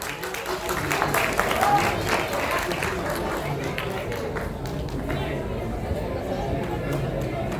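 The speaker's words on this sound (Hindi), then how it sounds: "जोरदार तालियां हो जाए गाइस।" Audience at a school dance competition show applauding and cheering, a dense, steady crowd noise with clapping and chatter running loud throughout, under a busy, echoing hall ambience.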